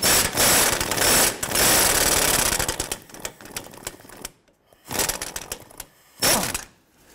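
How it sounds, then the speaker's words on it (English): Ratchet with an 18 mm socket turning the fuel tank bolts on a 2007-17 Jeep Wrangler: rapid, loud clicking runs for about three seconds, then returns in short bursts separated by pauses, close by. "Using an 18 millimeter socket, go ahead and start removing the tank bolts."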